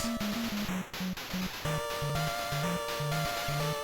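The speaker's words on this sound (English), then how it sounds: "So I just want you to appreciate this amazing chip tune." Chiptune music in the style of an Atari 2600 video game: a stepping blocky square-wave bass melody under thin high sustained tones, with a siren-like constant pitch, played alone and fairly quiet.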